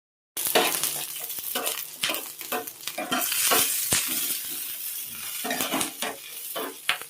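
Green chillies roast in hot oil in a pan, a steady sizzle broken by repeated scraping and clinking strokes of a spatula, close and fairly quiet with no talking.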